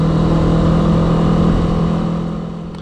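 Honda CB300R 2019 motorcycle engine at low RPM during a test ride, a steady close drone that fades slightly toward the end.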